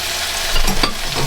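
Leeks hit a pan of browned beef with its fat drained, a close, loud, continuous sizzle with a quick stirring scrape in the middle.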